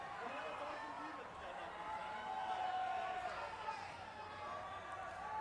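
A large outdoor concert crowd at a 2003 show roars in a dense, steady wash, with shrill whistles and scattered cheers rising over it throughout.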